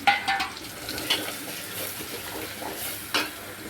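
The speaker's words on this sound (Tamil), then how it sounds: "கருவேப்பிலை இது எல்லாமே போட்டு நல்லா ஃப்ரை பண்ணி விட்டுக்கணும்" Curry leaves, crushed pepper and cumin frying and being stirred in a pan, giving a soft continuous sizzle broken by a few scraping clinks from the spoon against the metal.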